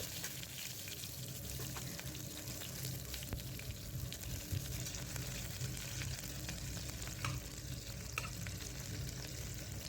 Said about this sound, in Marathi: आता यामध्ये आपण कांदा टाकलेला आहे कांदा छान असा परतून घेणार आहोत